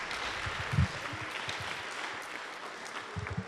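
Audience applause at a 2015 commencement ceremony, a brief scattered burst of clapping that rises and fades over a few seconds in a large hall, fairly faint and without talk.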